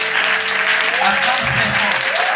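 Applause and cheering from a church worship congregation, a dense, steady wash of clapping lasting a couple of seconds under a sustained singing voice.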